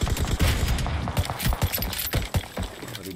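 Rapid gunfire from the video game PUBG Mobile crackles in dense bursts of shots, loud and continuous, with no voices over it.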